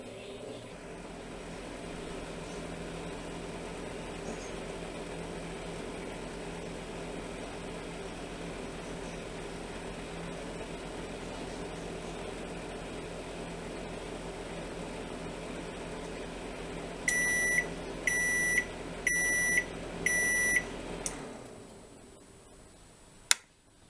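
A Samsung NG 32F microwave oven hums steadily while running on a 20-second timer, then sounds a series of four short electronic beeps before the hum cuts off, followed by a click.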